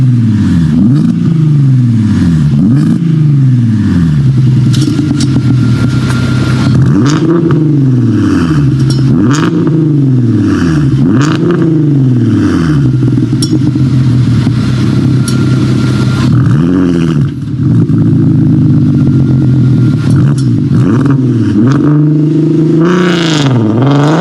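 A Volkswagen Passat R36 wagon with a 3.8 litre V6 and DSG gearbox revs hard and repeatedly, its engine note climbing and dropping in loud, close surges with no talk.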